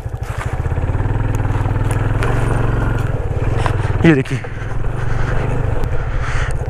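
A motorcycle rides a rough mountain trekking route in Ladakh's Zanskar valley, its engine thrumming steadily nearby with scraping and clattering from the rocky ground and someone briefly speaking over it.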